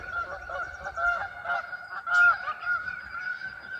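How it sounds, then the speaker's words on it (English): A flock of geese honks steadily while landing on a pond, many overlapping nasal calls in a continuous chorus, with one louder honk standing out midway. "Here are the geese coming to land in our pond."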